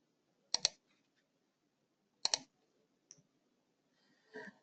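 Computer mouse clicks while working in SAP Business One software, two sharp double clicks followed by a faint single click and a softer click-like rustle, close and isolated in quiet.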